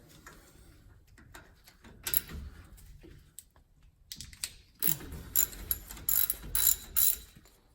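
A ratchet wrench loosens a 10 mm brake caliper bolt during rear brake work on a Ram truck, giving close, loud bursts of rapid clicking with short pauses between them and no talking.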